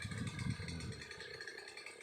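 A vintage 1980 German-made Stihl 070AV chainsaw engine runs steadily, a low, rough mechanical drone with a stronger throaty burst near the start that then settles into an even, moderately distant hum.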